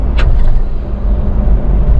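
A Maruti Ertiga drives along a snowy mountain road near Khardung La in Leh. Its engine and tyres make a steady, loud low rumble throughout.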